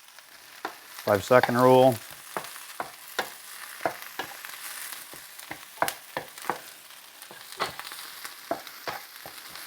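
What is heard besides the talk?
stirring breakfast food frying in a pan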